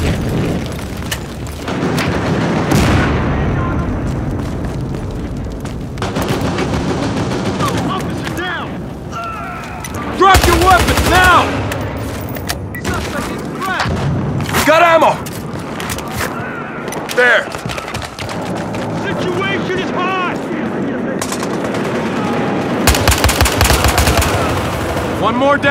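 Gunfire and explosions from a bank heist match in Battlefield Hardline, with a Golden FAL rifle among the weapons: loud, close bursts of automatic fire and booming blasts run almost without a break, and shouted voices come and go underneath.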